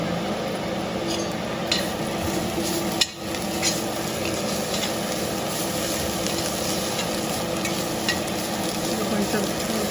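Bitter gourd and crushed dried red chilies fry in a pan with a steady, close sizzle throughout, broken by a brief clatter of stirring.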